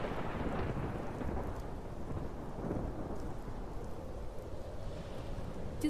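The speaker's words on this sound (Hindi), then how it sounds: "उस रात बारिश इतनी तेज होती है कि गांव में बाढ़ आ" Heavy rain pours steadily on a village at night in a cartoon story, with low rolling thunder rumbling continuously beneath the downpour, loud and close with no voices.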